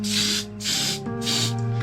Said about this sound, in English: I'm spraying at close range because I'm just tired of my hair doing whatever it wants today.